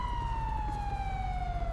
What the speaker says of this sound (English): kill the sirens on whoever's got sirens real quick